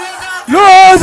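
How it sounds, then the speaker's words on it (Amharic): A church congregation at a service at Loza Mariam breaks into a high, warbling ululation that starts abruptly after a brief low murmur and rings out loud and close. "ለሎዝዬ እልል በሉ"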